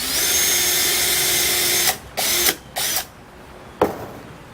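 A power drill bores a pilot hole for a nail in a plywood kiteboard rocker former, running steadily and loud for about two seconds, then several short bursts follow before a final sharp click.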